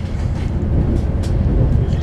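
Riding aboard a Virgin Trains train as it enters the railway town of Crewe: a loud, close, continuous low rumble of wheels and carriage with some faint higher squeals, and a voice speaking at moments.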